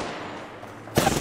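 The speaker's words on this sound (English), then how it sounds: "They're shooting at me." Gunfire in the battle royale game Apex Legends, a burst of loud close shots cutting in abruptly near the end after a stretch of quieter ambient game noise.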